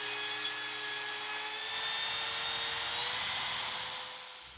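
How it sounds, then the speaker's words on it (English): A router fitted with a 1/4 inch rabbeting bit cuts a notch along a wooden molding piece, giving a steady, loud high-pitched whine that holds for about four seconds before easing off, with no talking. "use a 1/4 inch rabbeting bit to make a notch that will accept a piece of 1/4 inch plywood"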